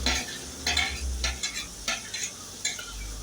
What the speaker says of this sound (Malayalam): അപ്പോൾ നമുക്കത് ഉള്ളി ഒന്ന് ഇട്ട് ഒന്ന് എണ്ണയിലൊന്ന് നന്നായിട്ട് മൂപ്പിച്ചെടുക്കാം